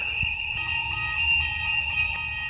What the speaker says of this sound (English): Is that a fire alarm?